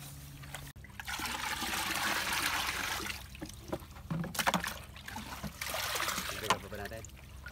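Water splashes and trickles into a fertilizer drench mix of calcium nitrate, humic acid and fungicide, a rushing pour in two long bursts with brief pauses, close and fairly loud, while people talk faintly in the background.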